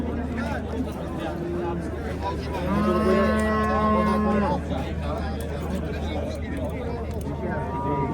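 A cow lets out a long, loud moo amid a noisy crowd of people chatting and milling around at a cattle market in Nishon, Kashkadarya, Uzbekistan.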